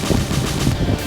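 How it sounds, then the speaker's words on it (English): Wind rushing over the microphone during a bike ride on a spring day in Missouri, a loud, continuous buffeting roar with no other sounds. "Boy, that wind."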